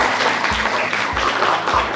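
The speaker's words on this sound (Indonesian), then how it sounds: "tepuk tangan dulu ya buat silakan" Classroom of students clapping together, a dense steady patter of many hands that carries on throughout at close range.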